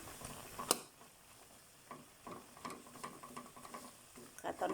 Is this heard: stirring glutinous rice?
yes